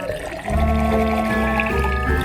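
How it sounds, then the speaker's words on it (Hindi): Milk poured into a glass over mashed fruit purée, a short close, loud continuous pour with gurgling fill tones. "और इसके ऊपर दूध डालेंगे"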